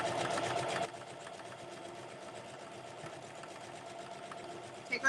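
A sewing machine stitches a Christmas stocking in a quiet, close run that is brisk at first and then slows to a softer, steady mechanical whir.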